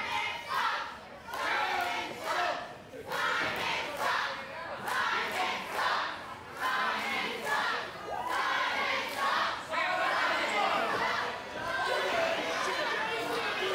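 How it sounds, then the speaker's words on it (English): A home crowd at a wrestling event reacts negatively, a dense, continuous roar of voices and jeering that swells and dips in waves throughout, loud and close, with no single voice standing out. "Simon seems to be embracing this less than positive reaction from the home crowd"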